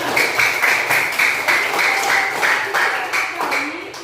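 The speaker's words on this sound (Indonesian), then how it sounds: "Beri tepuk tangan dulu untuk kelompok 5" A classroom group claps for group 5 after their presentation, brisk uneven hand claps that run steadily throughout at moderate loudness, with a tonal ringing or voice-like hum threaded underneath.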